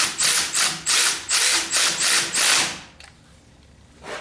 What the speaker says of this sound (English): So tighten these lightly with the power wrench.